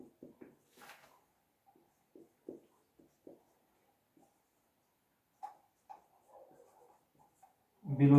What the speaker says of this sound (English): I'll write little smaller